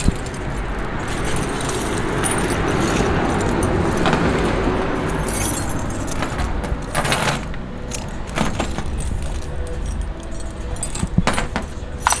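A bunch of keys jangles and clinks continuously, close and fairly loud, with some handling rattles and a faint car hum behind, no talking.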